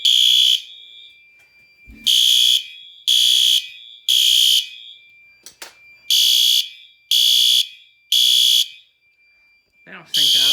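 An old fire alarm system sounds during a system test, giving loud, piercing electronic tones in spaced pulses, seven in all and grouped in threes with a pause between groups, followed by a brief voice.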